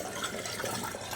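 Water running from a household tap, a steady broadband rush filling the whole moment at moderate, even loudness with no voices.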